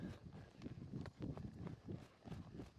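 Horse hooves trot across an arena floor in a steady rhythmic clip-clop, soft and fairly distant, with no talking.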